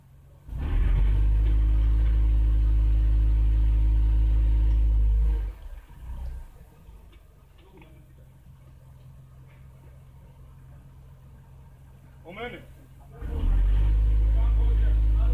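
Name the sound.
Mercedes engine revving while power braking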